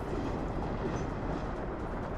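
Steady rumbling rail noise of a train in the city-building game Workers & Resources: Soviet Republic, a continuous dense roar at constant level throughout, with no talking.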